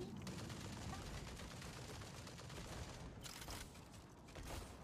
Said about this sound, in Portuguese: Nossa, eu errei um tiro, se tivesse acertado, tinha matado.